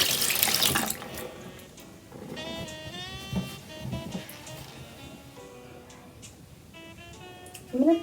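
Tap water runs while hair dye is rinsed out, a splashing, hissing flow that is loudest at the start and then softer, with voice-like tones and sounds of movement over it.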